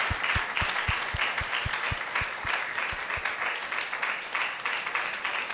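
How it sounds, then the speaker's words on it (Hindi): A church congregation at a Sunday service applauds loudly, a dense wash of clapping with a steady rhythmic beat carrying through the first few seconds before it loosens into scattered clapping. "हम जोरदार ताली बजाएं उनके लिए"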